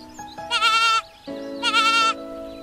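Two close, quavering goat bleats, each about half a second long, with a short gap between them over a steady low background hum.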